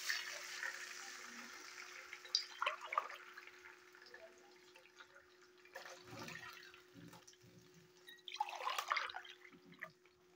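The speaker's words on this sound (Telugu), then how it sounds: "చూడండి, వాటర్ పోసేస్తున్నాను." Water is poured into a pan while cooking upma, giving splashing and trickling bursts, close and moderately quiet, with drips between pours.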